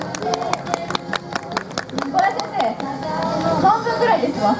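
Scattered audience clapping rings out at an outdoor character show at a castle ruin, sharp irregular claps at first, then giving way to crowd chatter and children's voices.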